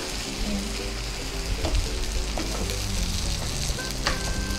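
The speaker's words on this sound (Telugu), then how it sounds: "ఇప్పుడు మనకి బాగా ఈ విధంగా బాగా వేగిపోతున్నాయి కదా" Stuffed brinjal fries in a pan with a steady, close sizzle and crackle, and a few clinks of stirring come through with no talking.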